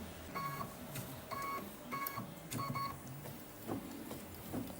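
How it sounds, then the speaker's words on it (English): A sewing machine stitches the leaf placement line on a Kimberbell mug rug, running in short rhythmic mechanical bursts with faint tonal chirps and brief pauses between them, quiet and close. "Now this is the placement line for the leaves, so sewing at the moment."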